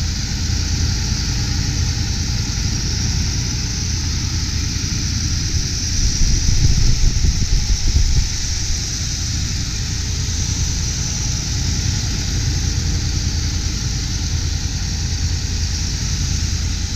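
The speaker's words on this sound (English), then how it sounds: "Nice, smoothly running engine" A 1989 Chevy Caprice Classic station wagon engine idles steadily with a smooth, constant low hum and no other sounds.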